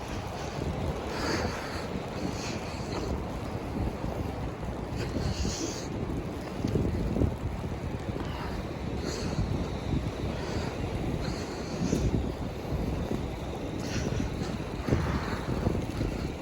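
Strong wind from a snowstorm blowing steadily and loud, a dense roar buffeting the microphone with gusts rising and falling throughout, no speech.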